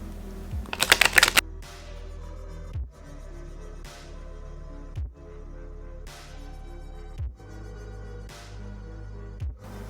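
Tarot cards shuffled by hand: a quick riffle of crisp flutters early on, then slower single card slaps and taps at irregular intervals of a second or two, close and clear.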